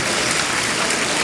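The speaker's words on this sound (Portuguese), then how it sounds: "vamos aplaudir a luz do mundo, vamos aplaudir aquele que pegou as chaves da morte e do inferno" A church congregation claps together in a short, dense burst of applause, a steady hiss of many hands filling the room with no voices standing out.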